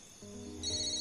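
A telephone ringtone starts up and grows louder in a steady electronic tone during a horror film scene, with no voices over it.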